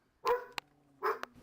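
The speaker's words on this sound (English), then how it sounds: "Dogs were just carrying on." Dogs barking indoors: two loud, close barks about three-quarters of a second apart, each followed by a sharp click, over a faint steady hum, with no talking.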